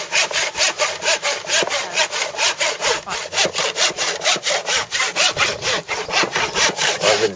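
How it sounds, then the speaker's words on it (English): A hand saw cuts through wood being made into a flower pot, with loud, close, rhythmic back-and-forth strokes repeating steadily and no voices. "Looks like they're busy sawing up something to make a flower pot."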